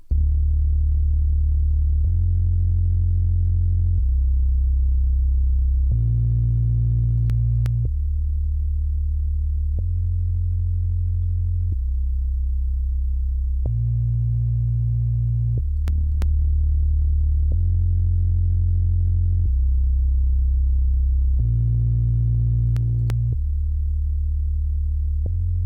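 A bass track plays back in Cubasis 3 while processing plugins are switched on and off, giving deep sustained low notes in a steady repeating stepwise pattern, loud and alone with no talking.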